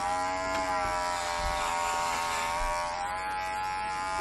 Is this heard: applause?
no